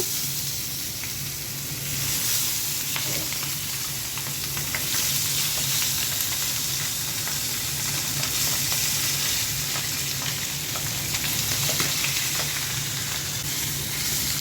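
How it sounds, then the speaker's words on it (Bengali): Pabda fish frying in oil in a pan, a continuous close sizzle and crackle with occasional stirring scrapes, steady and loud throughout with no talking. "এখন পাবদা মাছগুলো দিয়ে দিচ্ছি"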